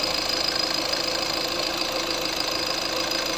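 A car engine runs at idle after a decarbonization treatment, a faint, steady mechanical hum with a light ticking knock, no voices.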